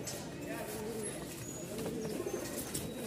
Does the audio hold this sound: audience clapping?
no